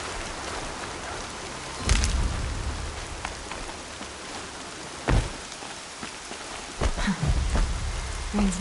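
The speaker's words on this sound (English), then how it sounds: "Rain's not so bad." Steady rain pours down in the game Horizon Zero Dawn with a soft hiss, broken by a few dull thumps and low rumbles, no voices.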